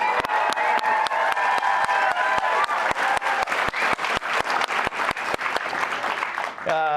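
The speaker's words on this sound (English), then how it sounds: "can we hear it for Coach Rose?" Steady, loud applause from a large audience, dense clapping throughout with a few louder individual claps standing out.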